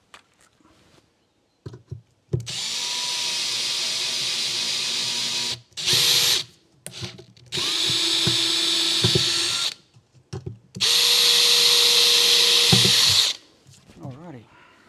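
Cordless power tool driving bolts during a 12-volt installation job, in three long loud whirring runs separated by pauses, with brief handling clicks and a voice speaking in between.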